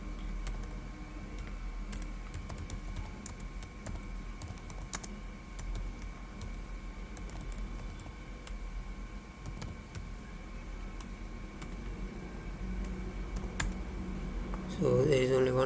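Typing on a computer keyboard while entering database queries, a steady stream of light clicks and taps at moderate distance over low room hum, with a brief louder change near the end.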